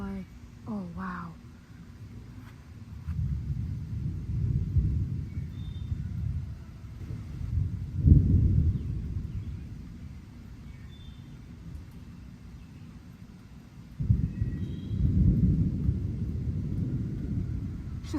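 Deep rolling thunder from a lightning storm rumbles in repeated long waves, swelling around the middle and again near the end, with a faint bird call early on.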